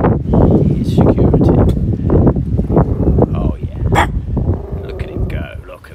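A Rottweiler barks repeatedly at close range, loud and rapid, while a person talks over the barking throughout.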